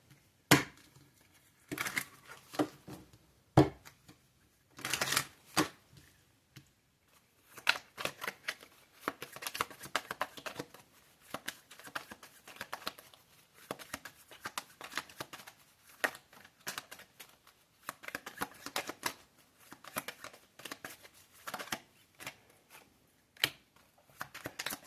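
Tarot cards being shuffled over and over in crisp riffling bursts, close and fairly loud, with brief pauses between rounds and no talking.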